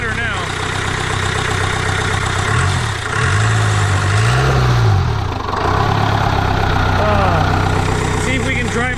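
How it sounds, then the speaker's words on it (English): An old rusty engine idles close by, a steady low rumble with a brief revving rise and fall in the middle, running a little smoother; faint talk is heard. "She seems to be idling a little bit better now."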